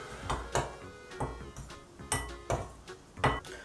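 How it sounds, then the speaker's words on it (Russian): A spoon stirs flour and salt for dumpling dough in a bowl, making a series of about ten sharp clinks and scrapes in an uneven rhythm, close and clear with no talking. "Теперь ложечкой перемешиваем."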